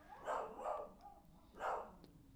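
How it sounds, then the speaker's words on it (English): A dog barks repeatedly while playing with another dog, three medium-loud barks, two in quick succession then one after a short pause, somewhat distant and with no talk over them. "one of the dogs just barks when they're playing constantly"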